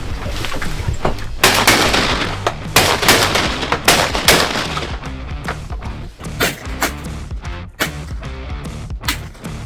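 Shotgun blasts on an opening-day duck hunt, a rapid series of loud, sharp reports spread across the stretch with short gaps, some shots overlapping, set against outdoor background noise.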